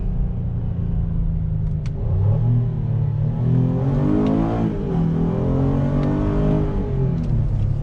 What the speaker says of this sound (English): And then one of the best parts is the downshifts.